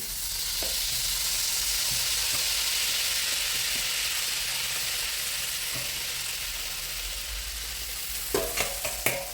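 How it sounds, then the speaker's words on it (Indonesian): Steady sizzling of spices sautéing in hot oil left from frying chicken, with occasional stirring scrapes, continuous and close, a few sharper clinks near the end. "Kita akan tumis bumbu untuk ayamnya dengan minyak yang tadi, dengan minyak bekas menggoreng ayam."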